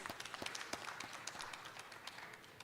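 Faint, distant applause from the audience for panelists who have been on stage at a Global Tourism Resilience Day event, a scattered patter of clapping heard on its own with no talk.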